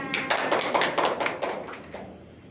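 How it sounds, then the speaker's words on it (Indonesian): Classroom applause for a student, a short burst of sharp, fairly close handclaps from a small group that thins out and fades toward the end. "berikan tepuk tangan untuk temannya"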